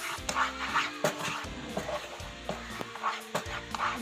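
A spoon scrapes and stirs thick milk peda mixture in a pan as milk powder is worked in, with soft irregular scratches and knocks and a faint sizzle underneath.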